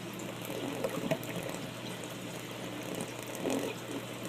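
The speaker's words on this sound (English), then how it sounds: "you don't get that big toilet draining sound" Water swirls and gurgles down a drain with a whirlpool action like a flushing toilet, a moderate continuous rushing flow with brief louder gulps.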